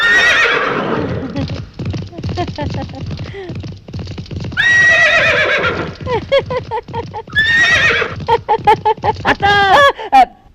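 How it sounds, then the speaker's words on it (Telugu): Racehorse neighing used as a sound effect in a Telugu comedy scene: several loud, shrill whinnies rise and fall, with hoof-like clip-clops and voices talking between them. "నీ అరుపు రేసు గుర్రం సకిలింపులా వినిపించిందిరా"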